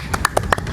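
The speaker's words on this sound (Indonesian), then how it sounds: "Oke, tepuk tangan dulu dong." A few people at a talk event clap, sharp distinct hand claps in a quick uneven run, close and fairly loud.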